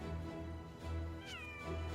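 A cat meows in the video game Monster Hunter World, with one clear rising-falling call midway over steady game music and ambience, fairly close and loud.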